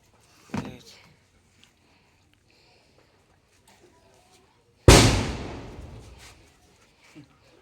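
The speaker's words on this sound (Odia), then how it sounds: "ବାଣ ଫୁଟିଲା" Two loud firecracker bursts several seconds apart, the first a sharp pop and the second a big blast with a long crackling, echoing tail, heard outdoors with no talking.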